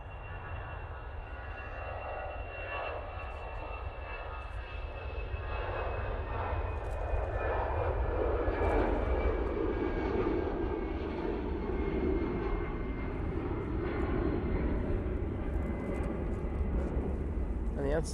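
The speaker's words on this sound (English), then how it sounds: "let's see if this Emirates moves as soon as this Finnair gets off the ground" Finnair airliner taking off at Manchester Airport, a distant engine roar building from a low rumble into a loud sustained thrust with a whining whistle over it.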